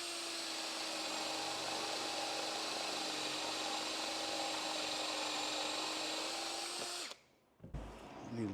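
A Cerycose cordless drill, compatible with DeWalt 20V batteries and set to drill mode at speed 1, whirs at a steady pitch for about seven seconds and then cuts off abruptly, leaving a few faint handling noises.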